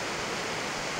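The river at Vermilion Chutes rushes as it picks up speed, a dense, continuous roar of flowing water filling the whole moment.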